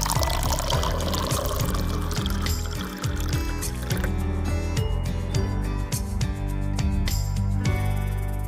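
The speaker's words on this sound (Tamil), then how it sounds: "ஹேர் வாஷ் பண்ணி ஹேர் ட்ரை பண்ணிக்கலாம்" Water pours and splashes continuously at close range while a toy doll's hair is washed in a play beauty-parlour setup, with a gurgling, trickling flow throughout.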